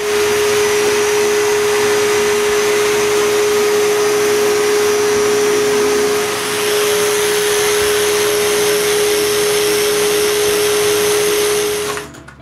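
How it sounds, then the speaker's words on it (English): A power sander working on wooden ladder shelves, a loud, steady whining drone with a constant high tone that runs unbroken for about twelve seconds before cutting off abruptly. "I remove the screws and sand the interior of the sides and the tops of the shelves"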